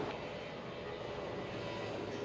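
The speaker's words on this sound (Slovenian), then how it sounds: "kjer lahko opazujemo vzlete in pristanke letal" Aircraft engine roaring steadily at Madeira airport, heard from a viewpoint high above the runway where planes take off and land; a continuous loud broadband rumble with no talk.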